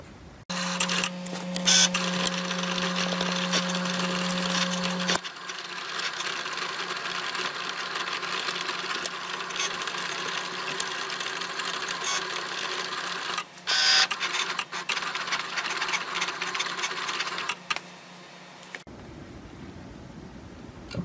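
A Cricut cutting machine works through vinyl sheets, whirring and buzzing with a steady tone at first, then a continuous mechanical rattle of the carriage moving, close and fairly loud, stopping near the end.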